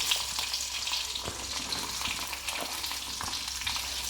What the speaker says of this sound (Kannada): ಎಣ್ಣೆ ಬಿಸಿಯಾದ ನಂತರ ಸ್ವಲ್ಪ ಸಾಸಿವೆ ಚಟಪಟ ಅಂದಮೇಲೆ ಕರಿಬೇವಿನ ಸೊಪ್ಪು, ಬೆಳ್ಳುಳ್ಳಿ, ಸಣ್ಣಗೆ ಹೆಚ್ಚಿರೋ ಈರುಳ್ಳಿ